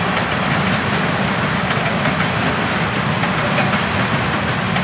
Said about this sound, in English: Take a good long look at this train.